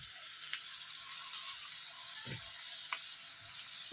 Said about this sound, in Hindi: यहाँ पर अब मैं इन्हें फ्राई करके ले लेती हूँ।